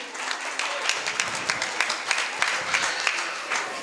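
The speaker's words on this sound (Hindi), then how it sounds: "एक बार जोरदार तालियां बजा दीजिए इन बच्चों के लिए।" An assembly gathering applauds for a group of children, a steady moderate roll of many hands clapping, slightly distant and continuous throughout.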